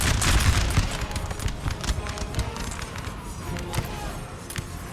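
Musket volleys from massed infantry in the video game Napoleon: Total War, a rolling crackle of many overlapping shots with a heavier boom at first, continuing as scattered bursts of gunfire.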